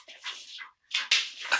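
A Labrador puppy whimpers in two short, high, whiny bursts, close and fairly quiet, with no talking.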